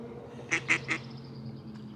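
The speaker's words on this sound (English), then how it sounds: "Some ducks flying into the water there." Ducks come in to land on water along a creek trail in a nature park, giving three quick quacks in a row, faint and somewhat distant over a low steady background hum, with no speech.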